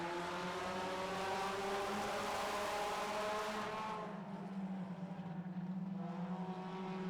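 4-cylinder stock race cars roar past on a track in a heat race, a loud sustained engine drone with rising and falling pitch as the pack passes, easing slightly after four seconds as it moves away.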